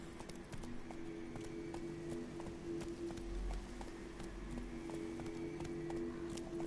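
Rapid hoofbeats of a galloping horse in The Witcher 3 video game run steadily throughout over a constant low hum, with no voices.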